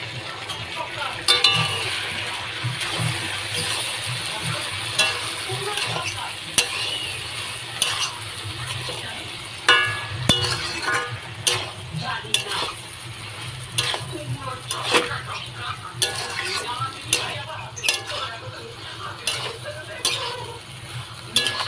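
Taro stolons and fried prawns are stirred together in a pan, giving a low continuous sizzle with frequent scrapes and light clinks of a metal spoon against the pan close at hand throughout.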